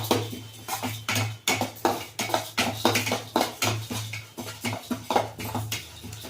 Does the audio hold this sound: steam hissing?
no